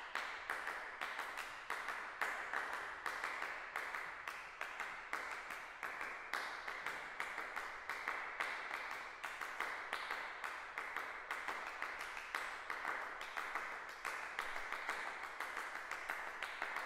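A percussion ensemble performs a piece, with dense, steady interlocking hand claps in a continuous rhythmic pattern throughout, bright and even in loudness with no talking.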